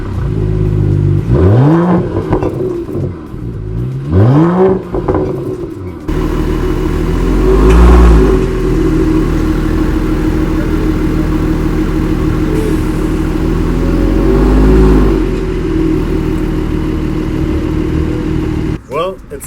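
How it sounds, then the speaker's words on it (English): A Mercedes-Benz GT53 AMG's exhaust revs hard several times against a soft rev limiter with rising and falling howls, then settles into a loud, deep idle rumble with occasional blips, up close. "I want us to listen to the pipes"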